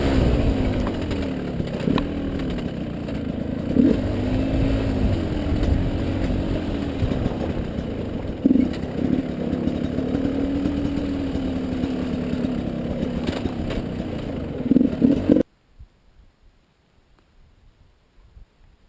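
A 2012 Gas Gas XC300 two-stroke dirt bike ridden off-road at McCain Valley, its engine droning and revving with repeated throttle blips for about fifteen seconds before cutting to near silence.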